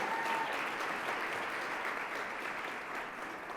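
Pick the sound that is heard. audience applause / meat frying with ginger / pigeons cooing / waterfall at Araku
audience applause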